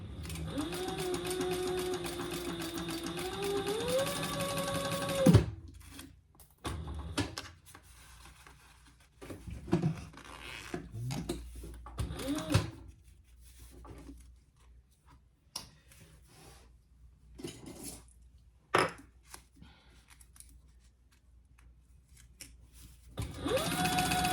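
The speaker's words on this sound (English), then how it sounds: "And let's just sew that on." A sewing machine stitches a zipper onto fabric for a multipurpose zipper case, with a steady whirring run at the start, then quieter intermittent handling and short bursts of stitching, with a longer run returning at the end.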